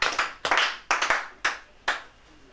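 A church congregation claps during a worship service, several bursts of hand claps sounding in a quick, uneven rhythm close by before fading into quiet room tone.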